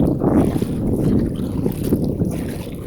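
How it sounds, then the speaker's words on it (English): Wind gusts over open water while kayaking in the Florida Keys produce a dense, low rumble of microphone buffeting, loud and steady for a few seconds, with no voices. "Here comes the wind."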